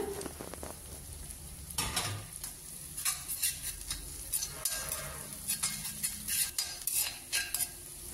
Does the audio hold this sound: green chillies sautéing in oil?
yes